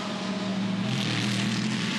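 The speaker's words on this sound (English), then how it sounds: "Big thumping V8 motor being chased by a twin turbo." During an Australian GT Championship race at Adelaide, a thumping 3.8-litre V8 McLaren GT car is chased by a twin-turbo car, with a steady, loud engine drone holding throughout and no talk.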